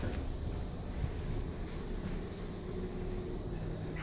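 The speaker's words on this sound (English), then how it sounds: "Lift going down." A Cotswold lift rated 1250 kg for 17 persons, built in 2003, descending at Swindon station platform 4: a steady low rumbling hum with a faint high whine, continuous and moderately loud.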